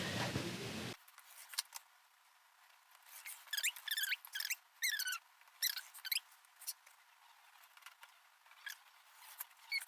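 A rotary cutter slices quilt fabric strips along a ruler, a series of short, quiet scraping strokes in an otherwise hushed room.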